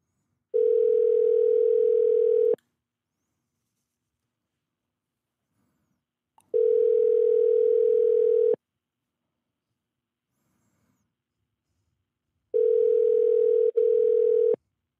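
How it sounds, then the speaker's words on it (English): A telephone dial tone sounds while a call is being placed. The steady mid-pitched tone comes in three separate two-second bursts with long silent gaps between them, loud and with no talk over it. "We're going to get Michael Kopelow on the phone right now."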